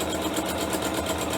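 A sewing machine stitches the outline of a candy wrapper placement line onto interfacing, running at a steady rapid mechanical whir with a continuous rhythmic chatter, close and fairly loud.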